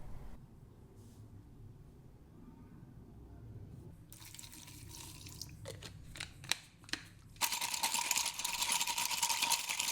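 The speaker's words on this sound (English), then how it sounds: "Before painting, it's important to rinse them through a wax and grease remover." Motorcycle brake bolts and hose clips from a Honda CRM250AR's Nissin front brake are rinsed in wax and grease remover, giving quiet liquid trickles and drips, then clinks and sloshing before a loud continuous rush of spraying liquid.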